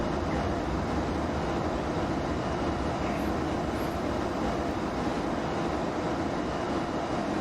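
Steady broadband wind rushes over an A350 in the X-Plane 12 flight simulator, a constant loud roar with no change across the stretch and no voices.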